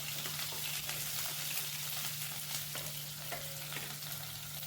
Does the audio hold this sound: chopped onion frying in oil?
yes